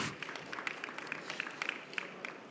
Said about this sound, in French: vous pouvez les applaudir pendant qu'elles s'installent